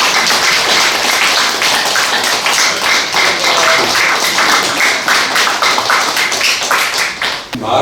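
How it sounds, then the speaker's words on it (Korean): An indoor audience at a lecture hall gathering bursts into dense, loud applause, many hands clapping steadily for several seconds before it tapers off. "박수 한번."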